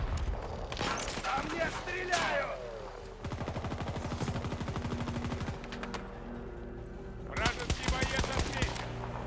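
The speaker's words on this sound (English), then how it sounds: "Gotta shoot quick so I don't get hit." Rapid video game gunfire in a multiplayer shooter match, with long automatic bursts and dense overlapping shots, loud and close, and heavier volleys near the start and end.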